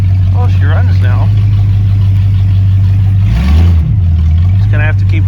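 An Oldsmobile Cutlass engine running with a screwdriver propping the carburetor and an exhaust leak, a loud steady low idle that briefly dips and rises, with a voice talking over it.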